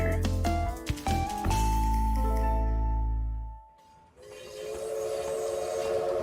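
A train rolls along the rails with a loud, sustained horn blast and heavy rumble that fades out, followed by a steady rushing travel noise.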